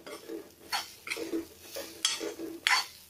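A spoon scrapes and clinks around a pan of brinjal gravy in a steady rhythm, roughly five distinct close stirring strokes over a few seconds, with no voices.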